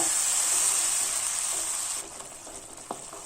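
Tomato paste and onions sauté in a pan for Kerala-style kadala curry, giving a steady loud sizzle with frying hiss that drops abruptly halfway through, followed by faint stirring scrapes.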